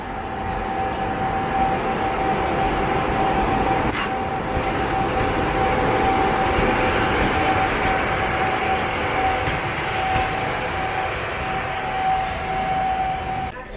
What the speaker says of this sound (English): And there he comes. Very nice. Wow, it's a very big train.